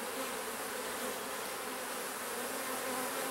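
Honeybees hum in a steady, dense drone throughout a beehive inspection, the buzzing close and continuous with no pauses.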